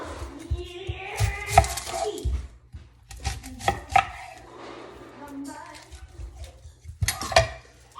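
Red onion being chopped on a cutting board in a home kitchen, with clusters of quick knife strikes in short bursts, close and fairly loud, pausing between runs.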